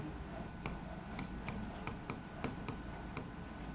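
Chalk or marker writing on a board during a history lesson, a quiet series of short taps and scratches in an uneven rhythm with no talking.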